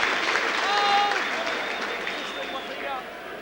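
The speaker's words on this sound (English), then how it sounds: "The French crowd finding their voice" A French crowd at a 2008 France v England rugby match cheers and applauds, a broad roar of clapping and voices with commentary over it.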